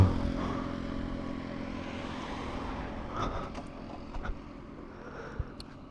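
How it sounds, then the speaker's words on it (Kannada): A Yamaha MT15 motorcycle engine idling with a steady low rumble that fades away as it stalls, followed by a few faint mechanical clicks and taps. "ಮತ್ತೆ ಆಫ್ ಆಯಿತು ಗಾಡಿ."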